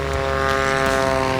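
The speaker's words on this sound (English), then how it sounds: "Clean off the ground there for John McCardle." A 400-horsepower Bearhawk 5 propeller airplane takes off at a STOL competition, its engine and prop making a loud, steady, close drone that continues without a break.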